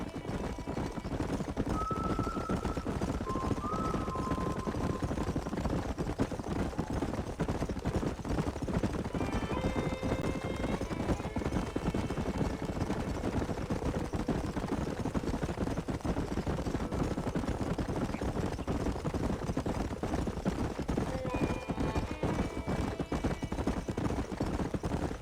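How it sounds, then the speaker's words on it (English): Horses in the video game Red Dead Redemption gallop with steady hoof clip-clop throughout, several faint whinnies rising above the drumming, with no talk. "There's the horses!"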